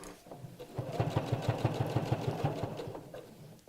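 Sewing machine stitching fabric on a heart reverse appliqué mat, a rapid mechanical clatter of needle strokes that runs for about two seconds and then slows, with faint background sound and no clear talk.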